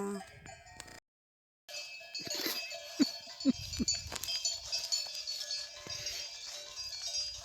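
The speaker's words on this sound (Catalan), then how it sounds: "Les vaques ens esperen." Herd of cows grazing in Catalan countryside, with clanking bells and occasional low calls scattered over a steady outdoor background, fairly faint and continuous after a brief gap.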